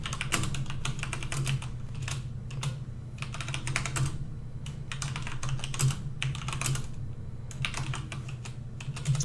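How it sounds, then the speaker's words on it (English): Steady clatter of computer keyboard keys being typed, irregular bursts of keystrokes over a low constant hum, close and fairly clear throughout. "I'm typing the description."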